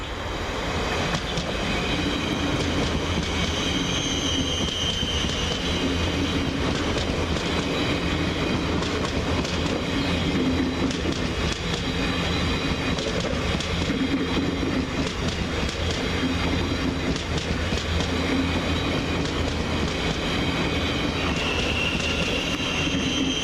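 LUMO class 803 train 803-001 passes non-stop through Peterborough station on the centre line at speed, a loud continuous roar of wheels on rail with steady clickety-clack throughout.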